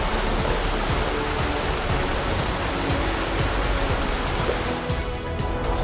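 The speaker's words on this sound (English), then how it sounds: "A few meters away is a picnic area where you can view Karuru Falls from the front." Karuru Falls in Aberdare National Park roars as a steady, loud wash of falling water, a dense continuous rush with no letup, heard from a viewpoint in front of the falls.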